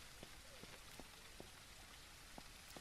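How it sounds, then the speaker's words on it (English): Steady rain pours in the SurrounDead zombie survival game, a dense even hiss with scattered sharper drops tapping nearby throughout, no voices. "Let's get out of the rain."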